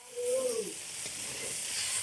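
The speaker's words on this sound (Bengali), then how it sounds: "লঙ্কা তেলে কষা যাচ্ছে" Chopped onion and green chili fry in hot oil with a steady, close sizzle and faint hiss, alone with no talk.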